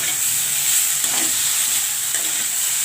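Shushni and kalmi greens stirred into sizzling vegetables in a pan for a spicy chorchori with bori, a steady close frying hiss with faint scraping as they are mixed, no voices.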